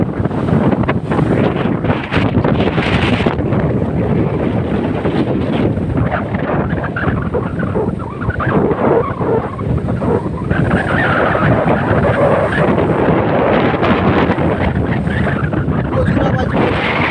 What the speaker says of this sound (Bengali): বাতাসের আওয়াজ মানে প্রচুর,